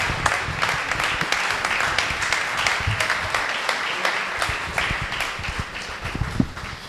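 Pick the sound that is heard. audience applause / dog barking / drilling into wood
audience applause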